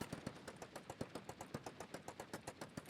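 Rapid automatic gunfire from the video game Code of War, a steady run of sharp evenly spaced shots, about eight per second, loud and close with no talk over it.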